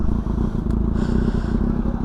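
A motorcycle fitted with an SC Project exhaust idles nearby at night, giving a steady, loud, throbbing low burble with a rapid pulsing rhythm and no talk over it.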